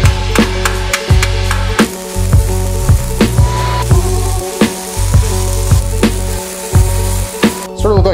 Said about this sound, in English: Got a gusset, I'm gonna weld on the top here.